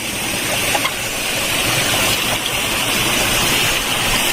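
A waterfall flows beneath a wooden bridge on a mountain hiking trail, a loud, dense, continuous rush of water heard close by and unbroken from start to finish.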